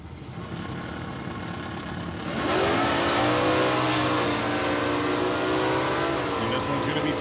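A pair of 1971 Plymouth Dusters launch at a bracket drag race at Saskatchewan International Raceway, engines idling then roaring loud and sustained as they rev down the quarter-mile, with an announcer talking over it.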